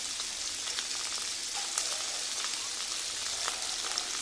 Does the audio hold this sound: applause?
no